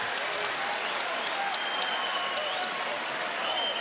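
Arena crowd at a college basketball game, Wyoming at Utah State, cheering and applauding in a steady, dense roar with scattered whistles and shouts, loud and sustained throughout.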